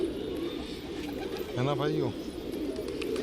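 A single soft pigeon coo rises briefly in the middle, close, while someone talks in Hindi throughout.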